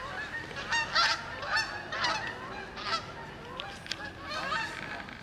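Geese honk repeatedly while flying in V formation over wetland at sunset, a string of overlapping calls rising and falling at moderate distance with no talk.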